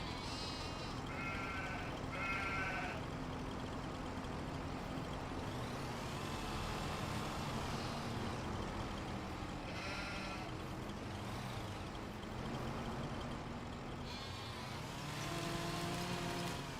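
Sheep bleat repeatedly in the video game Farming Simulator 25, several short calls over a constant low vehicle engine drone.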